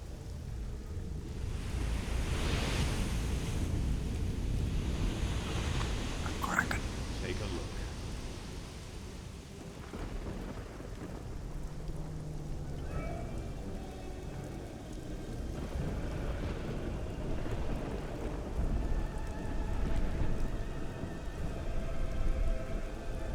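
A sea storm in Risen 2: Dark Waters, with rain and rolling rumble over a continuous wash of wind and surf while people talk over it at times.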